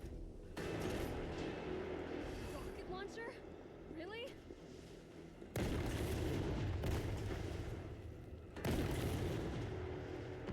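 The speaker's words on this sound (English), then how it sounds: "Rocket launcher? Really?" Rocket launcher fire and heavy explosions in the Resident Evil 3 Remake video game. Booming bursts arrive in three separate blasts amid continuous rumbling game noise.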